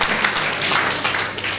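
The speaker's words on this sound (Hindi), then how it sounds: "एक बार जोरदार तालियां हो जाए" An audience at a company motivational event applauds, a dense wash of many hands clapping at once, moderately loud and sustained for a moment.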